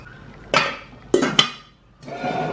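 A Green Cook cast nonstick pot with a green stone-enamel coating, 20 cm across and 11 cm tall, is handled. It gives three sharp, ringing metallic clanks followed by a softer scrape, all close and with no talking.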